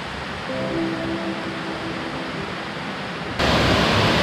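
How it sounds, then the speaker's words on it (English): A small stream flows down toward a river on a slope in Artvin, Turkey, giving a steady, broadband rush of running water that swells noticeably louder near the end. Faint tonal hum sits underneath early on; no one speaks. "I can hear a little stream down here."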